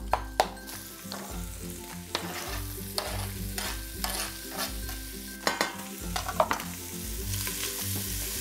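Ham fries in a pan with crispy bacon and onions, a loud, continuous sizzle broken by repeated stirring scrapes and clatters, close up and without speech.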